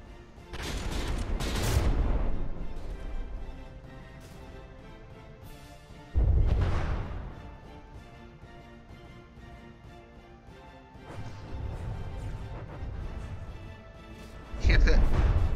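High explosive shells land in a From the Depths naval battle, giving three heavy booming impacts with rumbling gunfire between them, mixed under a commentator's voice.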